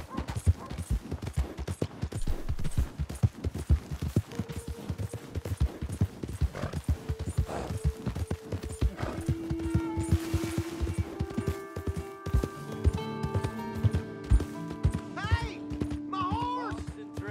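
Rapid, steady hoofbeats of a galloping horse in Red Dead Redemption 2, with game sound effects and tonal chimes layered on top near the end.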